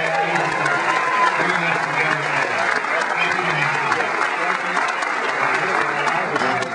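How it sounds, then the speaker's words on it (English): Steady, loud applause from a large crowd at a Connecticut statewide rally for Obama, dense clapping filling the whole stretch with some voices mixed in. "How about a big round of applause for Nancy DiNardo?"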